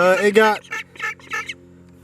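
Ducks crowded in a crate give a couple of loud, nasal honking quacks up close, followed by several softer, shorter calls.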